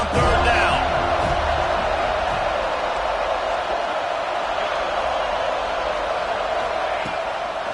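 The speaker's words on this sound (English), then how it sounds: "Decibels rising as the crowd gets behind this defense on third down" Football stadium crowd roaring as the defense lines up on third down, a dense, sustained wall of cheering and noise that stays loud throughout, with a faint commentator voice underneath.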